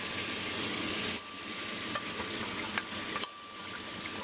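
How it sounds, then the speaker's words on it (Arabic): Oil sizzles steadily in a pot as aromatics brown for Moroccan couscous, a dense close-up frying hiss with a few soft stirring clicks and a short dip in intensity partway through. "غادي نخليها تشحر مزيان"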